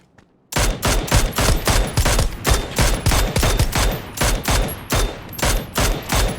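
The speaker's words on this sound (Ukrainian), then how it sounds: "Боже, як я криво стріляю." Rapid bursts of automatic gunfire in the battle royale game PUBG, loud and continuous, with a sharp rhythmic string of shots that briefly thins out between volleys.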